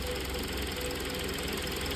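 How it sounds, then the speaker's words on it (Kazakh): A 2021 Hyundai Sonata DN8 with a 2.5-litre engine idling while worn intake manifold flaps rattle, giving a steady, even mechanical whir and faint buzzing chatter, close and continuous with no talking. "Шырылдаған дауыс именно заслонкадан шығып отыр."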